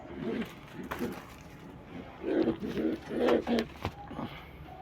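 Bhanwra pigeons in a loft at night give soft, low, throaty coos in several short, irregular bursts, fairly faint and close, with faint background rustling.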